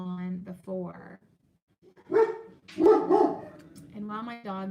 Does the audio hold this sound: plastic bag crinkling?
no